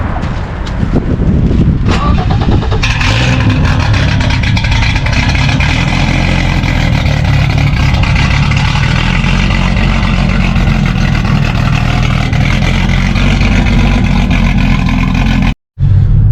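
A 1991 BMW 325i E30 driving along, its engine droning loud and steady inside the car with revs rising and falling through gear shifts, a brief dropout near the end.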